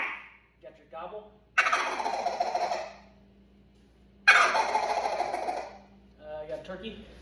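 A duck call imitating a turkey gobble: two loud, rapid rattling gobbles, close and clear, separated by a short pause, with faint calling before and after.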